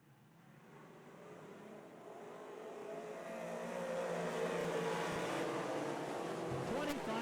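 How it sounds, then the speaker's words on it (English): Big Block modified race cars take the green flag at a dirt track, engine roar swelling from distant to louder and steadier over several seconds, no talk. "Lap 811 Big Safe modified feature taking the green into the turn."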